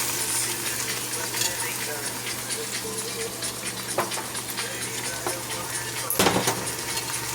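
Vegetable biryani being stirred and mixed in a pot, a steady soft scraping and shuffling of rice under a constant low hum, with a couple of sharper scrapes near the end; a voice murmurs faintly in the background.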